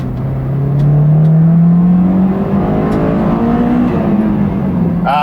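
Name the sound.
Honda VTEC engine revving high through the gears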